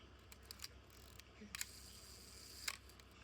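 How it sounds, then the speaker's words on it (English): A few sharp mechanical shutter clicks from an Asahi Pentax K1000 film camera, close up, spaced irregularly with quiet pauses between them; the last click is the loudest. "it is fully functioning at all of its shutter speeds. It sounds great."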